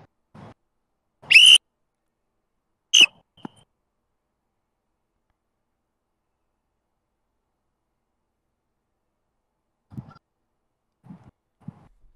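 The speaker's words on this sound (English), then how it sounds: "blow the whistle harder." Two loud, shrill whistle blasts, the first longer than the second, followed by long quiet and a few faint low thumps.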